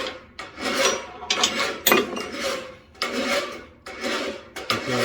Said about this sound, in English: You're just using a flat bastard file.